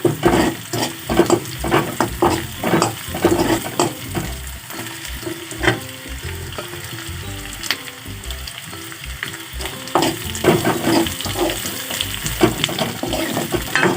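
Bamboo shoots drop into hot oil with spluttering spices, giving a loud, continuous close sizzle and fry broken by stirring scrapes and crackling pops, with no voices.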